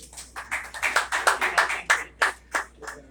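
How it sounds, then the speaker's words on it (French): Audience at a certificate of honour ceremony for journalists claps in a loose, uneven burst of distinct hand claps, close and moderately loud, thinning toward the end. "Sur vos applaudissements, mesdames, messieurs."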